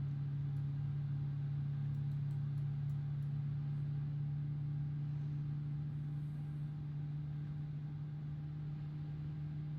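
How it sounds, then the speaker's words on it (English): Airbus A321neo jet engines running in Microsoft Flight Simulator 2024, a steady, even drone with a strong low hum that holds unchanged throughout, with no talking over it. "So we have some engine sounds at least."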